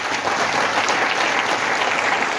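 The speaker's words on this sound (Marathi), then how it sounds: "ज्यांनी आणलंय त्याच्यासाठी जोरदार टाळ्या वाजवा" At a direct-selling company's national event, an audience claps strongly, a loud even roar of applause that continues without a break.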